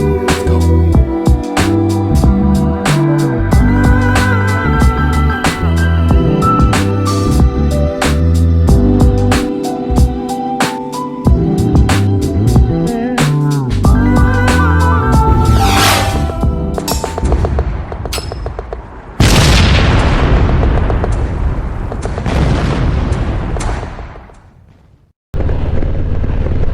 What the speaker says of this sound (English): I am now out and about on the bike